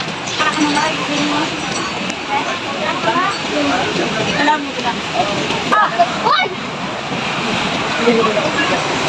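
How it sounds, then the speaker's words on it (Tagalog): Loud, steady roar of crashing waves with rushing water throughout, and voices talking over the surf. "Ang lakas ng alon."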